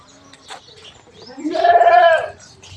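A goat in a goat shed lets out one drawn-out, wavering bleat close by, after a few quieter shuffling sounds.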